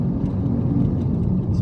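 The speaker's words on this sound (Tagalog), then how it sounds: "Napaka-traffic po talaga ngayon." Road traffic in the Araneta Avenue underpass on a sunny day, a steady loud low rumble of car engines and tyres with a constant whir and no pauses.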